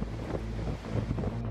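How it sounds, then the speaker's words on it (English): Ocean waves and strong wind around an offshore oil rig in rough weather, a loud, continuous rushing roar with heavy wind buffeting the microphone throughout. "Offshore rigs encounter hurricanes and icy weather."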